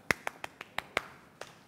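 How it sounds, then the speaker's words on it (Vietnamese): About seven sharp, isolated claps land in quick succession, with a short pause before the last one, close and fairly quiet, like a single person or a small group clapping briefly. "Cho một tràng pháo tay."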